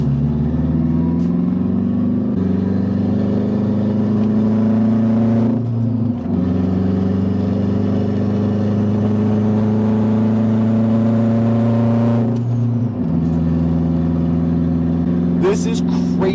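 Turbocharged 8th-gen Honda Civic cruising at night, its engine droning steadily from inside the cabin, with the pitch dropping at two gear changes and a short whoosh at the very end, while a person talks.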